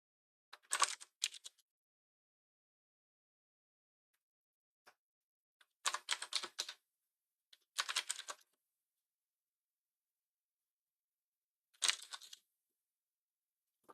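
Bursts of loud, clacky typing on a computer keyboard come in several separate flurries with silent gaps between them, close to the mic and with no talking.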